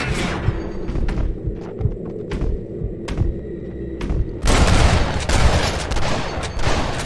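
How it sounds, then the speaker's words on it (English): Gunfire in the Red Dead Redemption video game: sharp shots crack at irregular intervals over rumbling hooves and background noise, then a dense, louder burst of firing and commotion takes over. "Stop shooting at me!"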